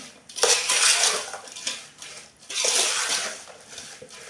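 A ladle stirs amla pickle with lemon juice, making two long, loud, wet scraping and sloshing passes of metal against the container, close and continuous.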